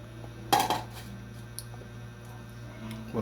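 A lid set onto a cooking pot of fish simmering in coconut milk with vegetables gives one sharp metallic clank, followed by a quiet steady hum and a few faint small clinks.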